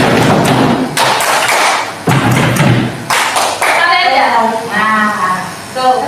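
A class of students tapping on tables and clapping hands in bursts of double thumps, loud and close, with a voice speaking between and over the beats.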